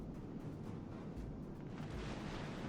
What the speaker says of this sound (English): They're shooting at the battleship.